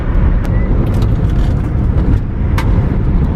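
A Toyota Corolla AE85 Levin with soft suspension rolls over a rough, bumpy road, its interior filled with a loud, steady low rumble of road and engine noise, with occasional light knocks and rattles from the bumps.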